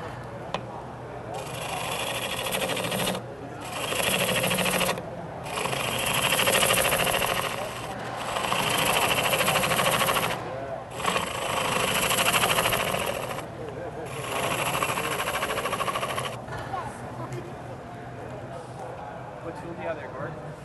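A bore gouge hollows out the middle of a log spinning on a wood lathe, giving a steady scraping, roaring cut in repeated passes separated by short pauses, loud and close.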